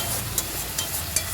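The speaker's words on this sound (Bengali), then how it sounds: "এই ডিমের জায়গায় মশলা কষাচ্ছি।" Spice paste sautéing in a pan, a short burst of close, steady sizzling with a few light stirring scrapes and no talk.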